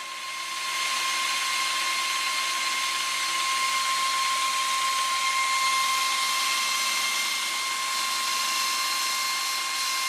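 A metal lathe makes a cutting pass on a steel diameter, producing a steady, continuous high-pitched whine with a sharp constant tone that holds evenly for the whole stretch, with no talking.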